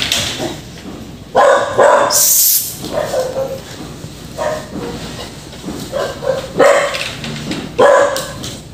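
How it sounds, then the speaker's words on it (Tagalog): A dog barks in loud, repeated bursts at close range, with a rumbling mechanical noise and outdoor clatter in the background. "Sino yung maingay na aso niya?"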